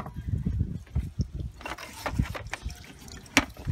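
Coolant drains and drips from a disconnected upper radiator hose on a 2011 BMW 535i, giving irregular close splashes and trickles with a few sharper drops.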